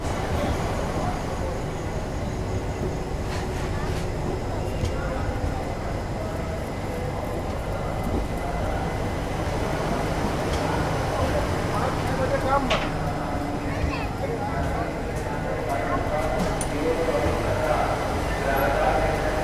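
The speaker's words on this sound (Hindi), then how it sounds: "प्रयागराज से 116 किलोमीटर की दूरी को तय कर अपनी ट्रेन पहुंच चुकी है अपने तीसरे official hold Fatehpur railway station पर" A Prayagraj–Dadri Summer Special passenger train arrives at Fatehpur railway station, giving a steady loud rumble of rolling wagons with scattered clanks and faint station ambience throughout.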